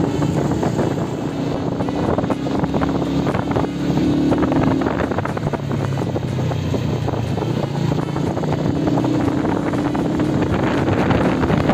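Constant wind buffets the microphone on a motorcycle ride through city streets toward an eco park, a heavy roar over a low engine drone that swells and dips throughout.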